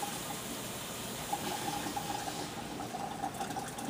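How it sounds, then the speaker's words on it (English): Hot water flushing through the barrel of a Mosin rifle, a steady faint hiss and trickle of running water close by, continuous with no speech. "let's flush out the barrel with some hot water now."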